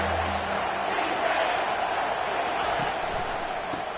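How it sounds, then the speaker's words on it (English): Stadium crowd noise from a college football video game, LSU versus Colorado, a steady broad roar held at even loudness throughout, with faint commentary-like murmur beneath. "This crowd knows when to bring it."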